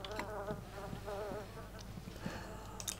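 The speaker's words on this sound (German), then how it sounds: "Bevor ich so ein Fliegenschwarm hier mich auffrisst." A swarm of flies buzzes in The Sims 2 game, a wavering insect drone with pitch swoops, joined by scattered clicks and soft background game sounds.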